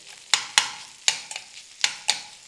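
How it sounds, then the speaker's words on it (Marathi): A spatula breaks up chicken bites frying in a pan on low gas for chicken hakka noodles: about six sharp scraping knocks against the pan over a faint, close sizzle. "तर याला मी उलथाण्याने असं तोडून घेतलं आहे"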